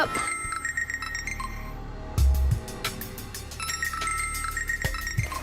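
A phone rings in a repeating electronic pattern at moderate volume, with a few clinks and a brief low thump partway through; no talking.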